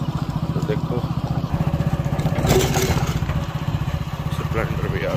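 A Hero Splendor motorcycle engine runs close by at a steady idle, its even rhythmic thumping continuing throughout with a slight swell midway.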